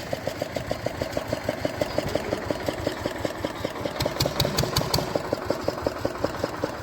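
At a well construction site a crane's engine runs steadily with a fast, regular chugging pulse, mid-loud and close, joined partway through by brief metallic rattling.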